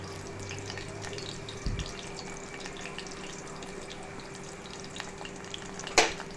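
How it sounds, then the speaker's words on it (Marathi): Crushed garlic and curry leaves sizzle in hot oil, a steady low frying hiss close by with a brief thump and a sharp spattering burst near the end, no talking. "तर ते आपण तेलावर सोडतोय आणि त्यावर आपण कढीपत्ता टाकतोय"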